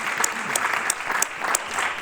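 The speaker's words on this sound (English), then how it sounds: "So you can clap for that, because that's amazing." An audience at a Distinguished Young Woman scholarship program in Menomonee Falls applauds, a steady roar of clapping with a few sharp, loud individual claps standing out.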